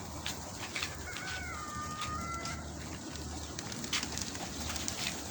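Harafil breed pigeons coo and flutter in a loft setting, soft birdcalls rising over a steady background with scattered faint clicks and wing sounds.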